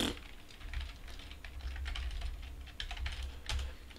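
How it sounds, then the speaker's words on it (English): Typing on an NEC PC-9821 computer keyboard, a quiet, steady run of key clicks with a few sharper strokes, heard alone. "We're just going to type it out."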